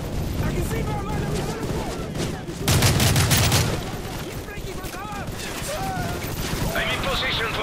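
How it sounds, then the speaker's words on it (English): Sustained machine gun fire in Call of Duty: Modern Warfare 3 rattles in dense, continuous bursts, with a heavier, louder volley in the middle, amid battlefield noise and shouted voices. "Those MGs are tearing us apart!"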